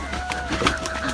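A chicken about to be slaughtered gives a short burst of clucking, close and moderately loud, lasting only a moment.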